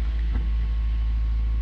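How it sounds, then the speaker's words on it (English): A room electric fan running on a desk beside a drone setup, giving a steady low whirring hum with broadband airy noise throughout, close and constant, with no voices. "the noise you're hearing, that's my fan"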